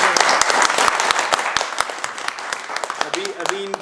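Dense clapping from a seated audience at a talk with a guest, steady and loud for several seconds before thinning out, with a voice starting to speak near the end.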